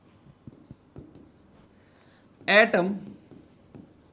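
Chalk or pen writing a point into notes during a chemistry class on Dalton's atomic theory, heard as faint scratchy strokes through a few seconds, with a teacher speaking briefly over them.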